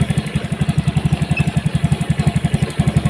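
A Honda Beat motorcycle engine fitted with a Vario 125 fuel injector runs loud and close in a steady, rapid pulsing rhythm that holds without clear revving surges.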